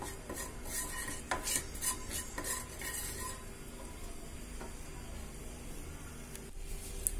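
Cumin seeds browning in a pan for palak paneer, with a steady soft sizzle and intermittent metallic scraping of a spoon stirring against the cookware, no voices present.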